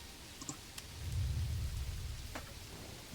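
Steady rainfall in the medieval city-building game Manor Lords, a soft continuous hiss with a low rumble swelling in the middle and a few faint clicks, quiet and without talk.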